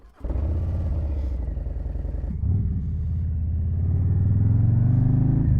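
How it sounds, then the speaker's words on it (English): A 2026 Harley-Davidson Low Rider ST motorcycle with a Bassani exhaust starts up close by, settling into a loud, deep, throbbing idle growl that swells slightly toward the end, with no talking. "that initial growl coming from that Bassani exhaust"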